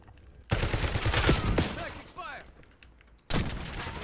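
Gunfire bursts in a shooter video game: a loud volley of shots in the first seconds, quieter combat noise in between, then another burst of fire near the end, with game sounds and talk mixed in.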